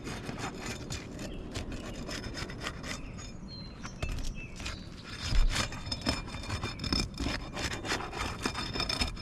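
Asphalt roof shingles are pried loose from their sealant strips, a close, continuous scraping and rubbing with repeated rasping strokes and occasional sharper cracks, no voices.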